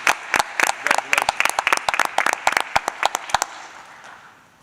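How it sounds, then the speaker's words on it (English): Applause from the audience at a school board meeting, with several people clapping in a quick, uneven rhythm that thins out and fades to quiet after about three and a half seconds, heard close with no talk on top. "let's give them another round of applause"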